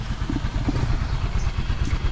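A motorcycle engine runs steadily close by on a Boracay road in the Philippines, a low rhythmic chugging rumble with slight clatter and no speech.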